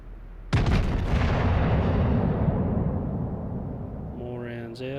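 The German battleship Gneisenau fires a single heavy main-gun salvo in World of Warships: a loud, sudden boom followed by a long, rolling rumble that fades slowly, with a voice starting up just before the end.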